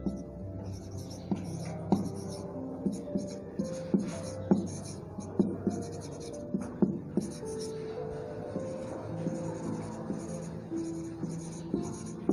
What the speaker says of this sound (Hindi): पहले मैं लिखता हूं